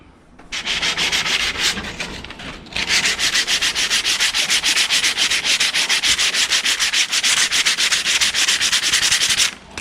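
Rapid, steady back-and-forth rasping of 150-grit sandpaper on a plastic Ford F150 air dam, loud and close, with a brief pause early on before the strokes resume at an even rhythm.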